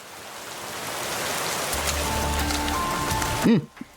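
Steady rainfall in the Nikke game's Resident Evil collaboration, a constant hiss of drops building gradually, with a low tone, a short gliding electronic effect and a sharp cutoff near the end.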